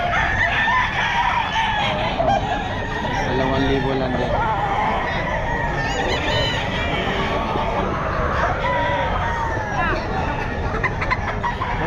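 Roosters crow and hens cluck continuously among gamefowl at a busy Bocaue pet market, overlapping calls close by under constant chatter and bargaining voices.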